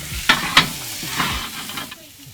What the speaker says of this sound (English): I can hear the sizzling